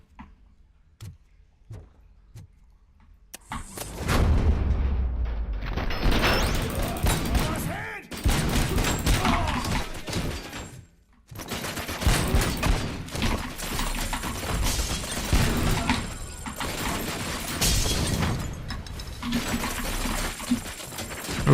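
Sustained gunfire in the RoboCop: Rogue City game, dense overlapping shots forming a wall of fire in long loud stretches after a few quiet seconds, broken by a brief lull, with a voice talking over parts.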